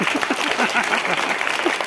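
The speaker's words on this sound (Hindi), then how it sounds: "उनके लिए भी एक ताली बजाइए।" A school audience claps in a steady, dense burst of applause at an assembly on the value of education, with some voices mixed in.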